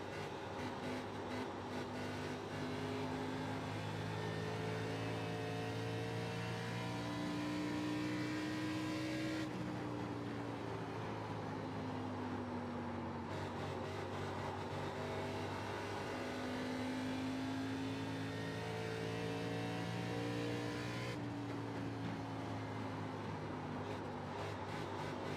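Race car engine drones steadily through a qualifying lap of an ARCA stock car at Iowa in iRacing, loud and continuous, with pitch rising and falling through gear changes and throttle lifts, no voices.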